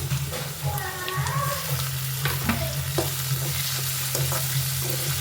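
Tomatoes drop into a pan of ginger and garlic and fry with a steady, close sizzle, punctuated by spatula stirring and scraping.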